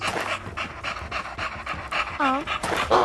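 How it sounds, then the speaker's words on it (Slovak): A dog pants rapidly and steadily close to the microphone for about three seconds, with a few brief whining tones near the end. "A môj pes."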